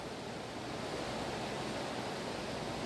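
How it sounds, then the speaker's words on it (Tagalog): Typhoon floodwater rushes steadily through the space beneath a house, a constant, dense wash of noise that fills the whole stretch with no break and no voices. "Ayan ang tubig. Maagos."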